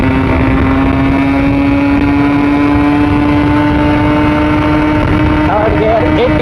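A Yamaha RX100 motorcycle engine drones loudly and steadily at close range, holding an even pitch through the gear change to third with a slight shift near the end, while a voice talks faintly over it.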